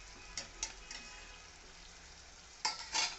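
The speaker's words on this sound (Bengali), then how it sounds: "আমি এই যে নেড়ে ছেড়ে একটু ঢাকনা দিয়ে ঢেকে দেবো।" Bottle gourd and prawns sizzle softly in a pan as a few scraping stirs sound near, then a brief clatter as a lid is set over the pot.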